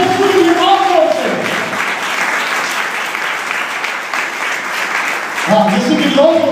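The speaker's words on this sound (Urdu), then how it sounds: "ذرا یسوع مسیح کے لیے پرزور تالیاں بجا لیں، زوردار تالیاں یسوع مسیح کے لیے" A church congregation applauds loudly for Jesus Christ, dense sustained clapping filling the middle of the passage while a voice speaks over it at the start and end.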